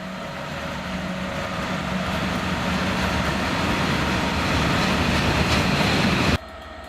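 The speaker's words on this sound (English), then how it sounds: "an EWS Class 66 runs through the former down freight line with a load of steel from Port Talbot" An EWS Class 66 diesel freight locomotive hauls a steel train from Port Talbot along a freight line, a loud sustained rumble and rail roar that swells slightly before cutting off abruptly near the end.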